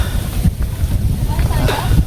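Strong wind buffets the microphone in gusty low rumbles in Dingalan, with faint voices in the background.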